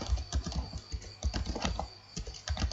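Keys clatter on a computer keyboard as text is typed into a spreadsheet cell, a steady run of close, quick keystrokes with brief gaps.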